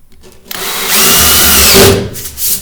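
A power drill drives screws into a Geberit concealed toilet frame in a bathroom, one loud close whirring burst of about a second and a half that winds up and stops.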